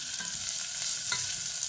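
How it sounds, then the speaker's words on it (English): Onions sizzle and crackle as they fry in a pan, a steady close hiss with small pops and no voices. "So a little bit of the sizzling sound"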